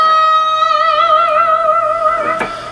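A sustained electric guitar note bent up and held with a steady, wavering vibrato, part of a solo, ringing loud and alone before fading slightly at the end.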